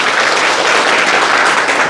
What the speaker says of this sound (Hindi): तालियां एक बजनी चाहिए भाई।